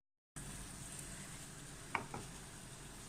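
Chicken cooks in a pot with a low, even sizzle that starts abruptly and holds steady, with a couple of soft clinks midway; quiet and without talk.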